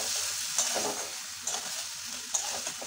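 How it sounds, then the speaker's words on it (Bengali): Prawns and yardlong beans stir-fry in a curry pan, with a continuous bright sizzle and a few soft spatula scrapes recurring about once a second, close and without any talking. "এবার ভালো করে এটা কষাবো একটু"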